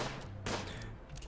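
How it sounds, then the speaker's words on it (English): Gunfire in the colony sim RimWorld (Alpha 17), a quick pair of sharp game shots, the second louder burst standing out over a low, steady background hum. "So Nate's off shooting stuff"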